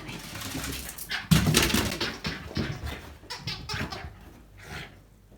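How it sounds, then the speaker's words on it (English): A small pet dog named Cyril, back indoors with wet feet, lets out a run of excited whimpers and short yelps in uneven bursts close by, with faint breathy sounds between them. "Crazy dog."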